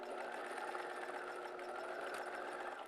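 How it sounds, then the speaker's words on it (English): A sewing machine runs in one continuous steady whir while stitching a jelly vinyl zipper pouch, close and even throughout with no pauses. "I sew from the bottom to the top"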